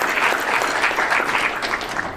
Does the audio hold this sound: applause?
yes